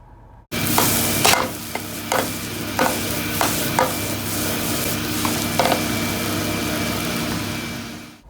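Sweet onions fry in a pan for a Japanese hamburger steak, giving a steady loud sizzle with repeated scraping stir strokes and no talking.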